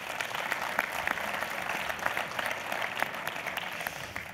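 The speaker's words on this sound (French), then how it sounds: "on peut l'applaudir quand même" Roundtable conference audience applauding after a demonstration, dense sustained clapping with many crisp individual claps, steady and moderately loud throughout without talk.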